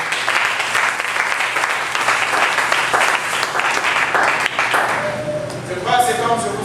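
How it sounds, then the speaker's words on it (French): A congregation at a French-language sermon applauds for the Lord with steady, full clapping that holds for several seconds, then thins as the preacher's voice returns over a faint tone near the end. "Oh, applaudissez pour le Seigneur."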